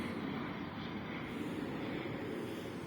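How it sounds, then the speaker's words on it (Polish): A small airplane passes overhead at a distance, a steady broadband drone holding level throughout with no pauses, faint but continuous and alone. "Jakiś mały samolot, nie znam tej linii."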